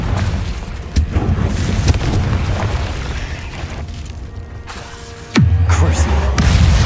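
Confringo fire spell blasts in Hogwarts Legacy: several sharp explosive bursts and booms ring out over a rumbling game soundscape, followed by a louder, sustained low roar.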